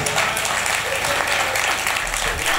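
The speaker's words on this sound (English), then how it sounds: "Let me also clap for you guys." Steady applause from a crowd, broad and continuous throughout, with some voices mixed in underneath.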